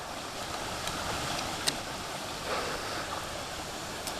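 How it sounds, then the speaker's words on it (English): Stream water flowing near a house, a constant broadband rush heard outdoors, with faint wind and no talking. "And there's some water, as you can probably hear already."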